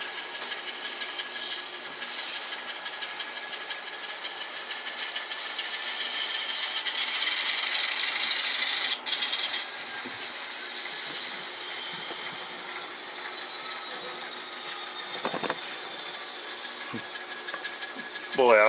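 Atlas S2 N scale model locomotive with DCC sound running, giving a steady, faint mechanical whine and gear ratchet with a thin high tone, a brief click near the middle and a few soft knocks toward the end.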